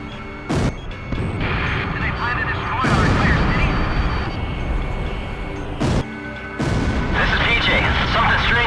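Bombs fall and burst across a city in the Ace Combat flight game, a dense, continuous rumble of heavy explosions with sharp booming impacts cutting through at intervals.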